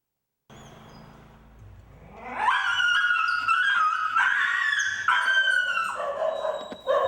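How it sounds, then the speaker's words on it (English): A dog at the vet, about to get a pre-surgery shot, whimpers and whines in high, wavering cries that grow louder and continue almost without pause, ending in a short yelp. "To prep him for surgery, Ocho has to have a shot."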